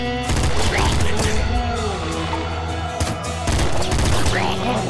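Rapid gunfire rattles nonstop in Nuclear Throne, bursts of shots with sharp ricochet pings layered over a loud, chaotic game soundscape, with brief pauses between volleys.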